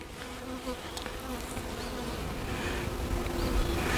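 Honey bees buzzing during a hive inspection, a dense continuous drone of many insects close by, steady and unbroken with no voices.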